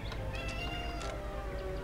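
A house cat gives a short, faint meow or two in the background of a quiet room, brief and somewhat distant, with no one speaking.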